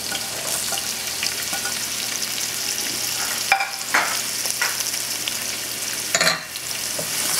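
Steady sizzle of onions frying in a pot for Ghana-style jollof rice, with a few clinks and scrapes of stirring over the constant hiss.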